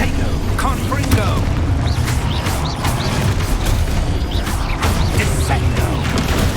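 Confringo blasting spell explosions in the Hogwarts Legacy video game, a rapid series of booming impacts and crashes amid combat clatter, with a voice shouting spell names over the action.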